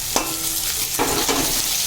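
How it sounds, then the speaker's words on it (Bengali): Onions going into hot oil in a pan for a Bengali duck masala curry, frying with a steady sizzle while a utensil scrapes and stirs in a few distinct strokes. "এবার পেঁয়াজগুলো ছাড়া হচ্ছে"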